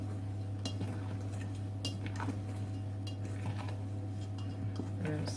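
A utensil slowly stirs cake batter in a bowl with soft scraping and occasional light clinks, under a constant low background hum.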